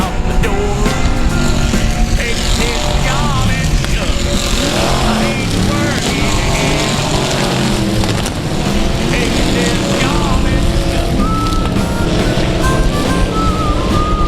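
Race cars at South Texas Speedway run in a close nose-to-tail pack, the dense engine roar loud and continuous, with an announcer calling the race over it throughout.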